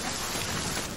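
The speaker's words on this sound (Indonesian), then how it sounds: "di sana pun mulai hujan yang ngebuat jalanan jadi sepi" Steady rain falling on a street at night as a storm sets in, a dense continuous hiss of drops with no pauses, fairly close and even in level, with no voices.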